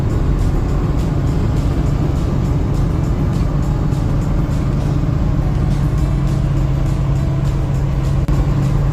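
Steady, loud road noise and engine drone from an automatic car with a mostly stock motor cruising along a highway near a motorsports campus, constant throughout without speech.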